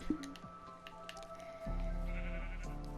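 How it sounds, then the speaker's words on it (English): Sheep in a survival building video game, a short synthetic bleat followed by soft squishy game sound effects and a louder low-pitched tone, with no talking. "So this is a sheep."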